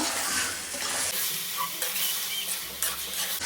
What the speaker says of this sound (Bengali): চালটা ভালো করে ভেজে নিব